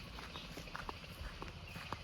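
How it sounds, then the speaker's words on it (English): Wild horses walk nearby, their hooves giving a scattered series of soft, uneven clip-clops over a steady background hiss, moderately close and fairly quiet. "And there really are wild horses."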